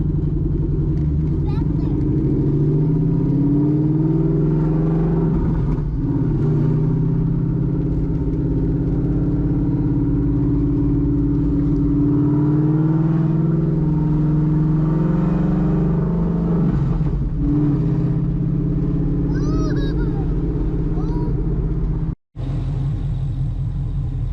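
A Coyote-swapped 1999 SVT Cobra Mustang with a Mac Flowpath catback and BBK longtube exhaust drives around a neighborhood, its loud, steady engine rumble rising and falling as it accelerates, heard from inside the car with talk over it.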